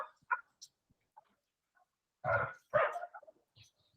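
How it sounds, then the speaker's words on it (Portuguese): A mongrel dog barks twice in quick succession, fairly close and clear, after a few faint scattered yips and ticks in an otherwise quiet setting. "Esse cachorro vira-lata que late o tempo todo é complicado."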